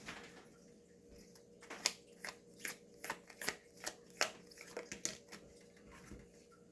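Tarot cards being shuffled at close range, a run of soft papery riffles and flicks, about a dozen brief bursts in an uneven rhythm over a faint room hum, with no voices.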